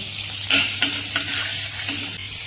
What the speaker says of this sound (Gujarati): અહીંયા ખાલી જીરું ઉમેરીશું અડધી ચમચી જેટલું અને ત્યારબાદ આપણે ઉમેરી દઈશું ડાયરેક્ટ મેથી જીરું થોડું ફૂટી જાય